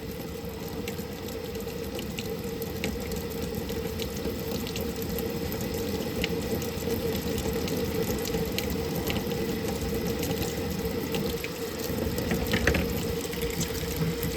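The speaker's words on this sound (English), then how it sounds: "You just want to do it enough to give the blade a good rinse." Water runs steadily from a tap to rinse a dirty fan blade: a loud, continuous splashing rush with a steady hum beneath it, close up and unbroken, with no voices.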